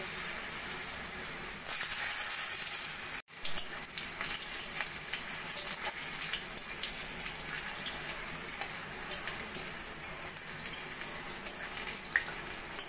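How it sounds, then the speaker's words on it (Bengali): Mango pieces fry in the oil left over from frying rohu fish, giving a steady bright sizzle throughout with small crackles. One brief dropout occurs early, and no one speaks. "ওই তেলের মধ্যেই আমি আমের পিসগুলো একটু ভেজে নেব।"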